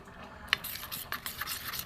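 Gram flour batter for radish fritters being whisked in a bowl, giving a fast run of soft, scraping strokes with a sharp click near the start, close and fairly quiet.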